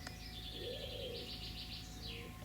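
Pigeons coo faintly outdoors among fruit and berry trees, a low soft call mixed with high chirps from other birds over a steady background hum.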